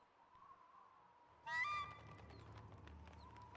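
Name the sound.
bird honking in the video game Myst III: Exile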